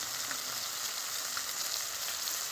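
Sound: fish frying in a pan

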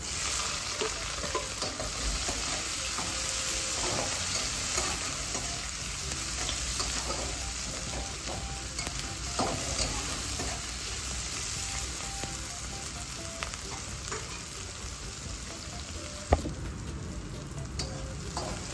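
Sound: spring onion and green chilli frying with dried fish

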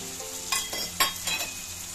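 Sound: potatoes, chickpeas and coconut frying in a pan

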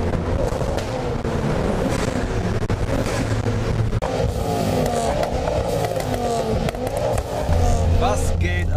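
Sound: Ford Focus RS five-cylinder engine revving

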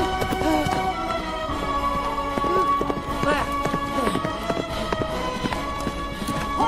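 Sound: horse galloping away

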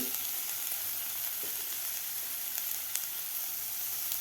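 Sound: vegetables (carrot, French beans) sautéing in a pan on high flame

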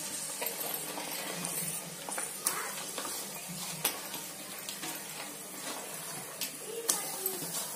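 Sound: onions sautéing in a pan

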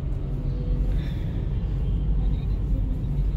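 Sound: car driving

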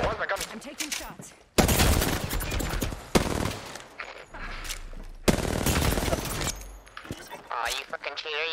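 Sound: gunfire in a video game

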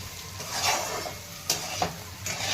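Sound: black chickpeas being sautéed in oil

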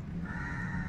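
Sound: birds chirping, crows cawing among garden plants

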